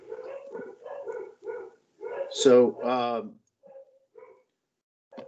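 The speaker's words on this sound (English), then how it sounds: "we got the dogs in the background" Dogs bark in the background of a phone call during a public board meeting, a few short yips and barks mixed among voices, with one louder burst in the middle and people talking throughout.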